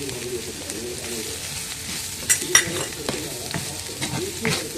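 Onions with Kashmiri chili powder sizzle and fry in a pan while a spoon stirs and scrapes through them, a steady close hiss broken by a few sharper scraping strokes, with faint bird coos in the background.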